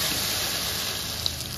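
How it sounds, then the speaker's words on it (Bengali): Water pours steadily into a cooking pot with chillies and salt, a continuous close gush running without a break. "জল দিয়ে দিলাম।"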